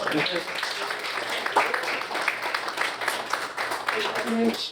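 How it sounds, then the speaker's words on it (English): Audience applause at a DBAN gathering training session on FSA loan applications, a steady wash of clapping that continues throughout, with voices talking over it. "let's give a round of applause to Fello"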